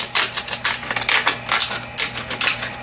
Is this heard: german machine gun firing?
no